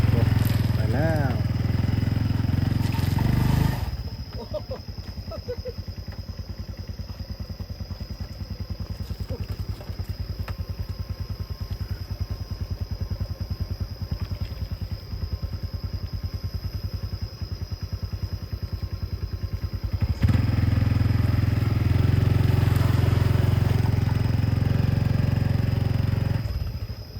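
A motorcycle rides a rough, muddy rural road from Pak Phanang toward Ban Sok, its mid-pitched engine clattering and idling unevenly under rattles and bumps. It grows louder at the start and end, and voices talk over parts of it.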